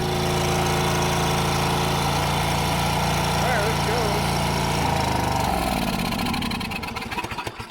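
A John Deere GT245 lawn tractor engine runs with the choke on, a steady mid-pitched drone that shifts partway through and then breaks into uneven chugging pulses near the end; no speech is heard.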